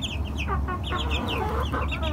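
Chickens clucking close by in a rapid, irregular series of short calls over a low steady hum, with no talking.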